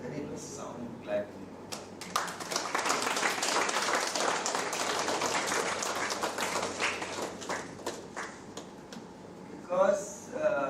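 Applause at an academic conference breaks out after brief talk and builds into a dense round of clapping, then tapers off into a few scattered claps, with voices returning at the close.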